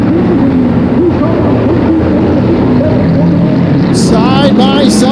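Vintage modified race cars run side by side through the turns at Flamboro Speedway, their engines making a loud, steady roar that holds throughout, with a brief higher whine near the end.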